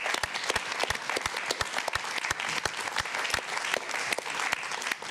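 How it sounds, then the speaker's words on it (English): An audience at a European Literature Night event claps steadily for several seconds, a dense, loud, even burst of applause with sharp individual claps standing out and no voices over it. "just another perhaps round of applause for all the hard work"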